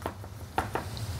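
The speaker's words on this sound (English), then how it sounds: "we can now just quickly give your garlic a nice little chop" A knife chops garlic on a board in a few quick, close taps over a low background hum, part of preparing a beef Wellington.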